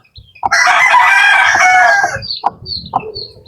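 Chickens cluck loudly and close by, with a sustained rooster crow at the start, followed by a few short clucks and calls from the flock.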